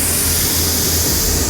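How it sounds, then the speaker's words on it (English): A spray gun lays white base coat on a car, a loud, steady, unbroken airy hiss filling the whole moment, close up and alone. "So we're spraying white"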